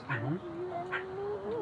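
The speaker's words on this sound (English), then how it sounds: "They're barking." Meerkats at feeding time give high, wavering nasal calls, a short rising cry followed by a long sustained tone, quiet and close.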